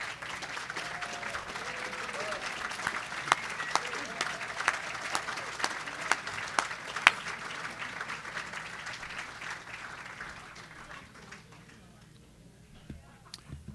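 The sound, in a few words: applause for veterans at luncheon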